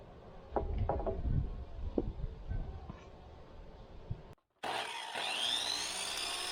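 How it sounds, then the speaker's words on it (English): A miter saw cuts wood for a post cutout in a 6x8 storage shed floor. Scattered knocks and taps give way, after a short silence, to a loud, steady motor whine that runs to the end. "Here I'm cutting the cutout for the post using a miter saw."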